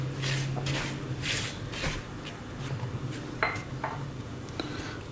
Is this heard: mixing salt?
yes